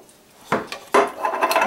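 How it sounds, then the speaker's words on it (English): Diced tomatoes stirred into cooked meat in a pot, a couple of close scraping knocks of a utensil against the pot followed by a wet, shuffling stir. "I try and mix them in with meat first before I add anything else, just to kind of get it nicely mixed"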